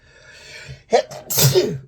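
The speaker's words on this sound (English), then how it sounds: "about to sneeze," A single close allergy sneeze, a short sharp inhale followed by a loud burst, preceded by a faint hum of breath.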